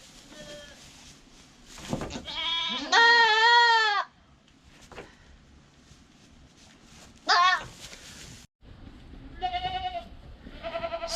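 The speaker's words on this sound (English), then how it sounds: "goats can sometimes be really dramatic about getting needles" A goat bleats loudly while getting an antibiotic injection, giving several drawn-out wavering cries with quiet gaps between them and softer background noise.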